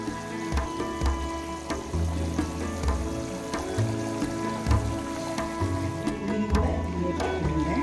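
Masala with onions, shallots and green chillies fries in a pan, giving a loud, continuous close-up sizzle and crackle like steady rain, with occasional faint clinks of a spoon.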